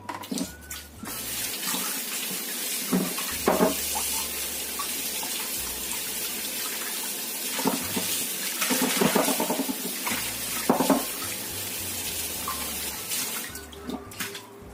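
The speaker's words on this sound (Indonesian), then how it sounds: "Kemudian kita bilas. Ini kita bilas sampai bersih." Running water splashes steadily while an octopus is rinsed clean under the tap, a continuous wash with fluctuating splashes and no talking.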